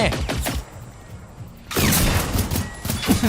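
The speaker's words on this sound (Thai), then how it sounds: "ปืนพกยิง" Pistol fire in the shooter game Generation Zero: loud, rapid bursts of close gunshots in the opening half second and again through the second half, separated by a brief quieter gap.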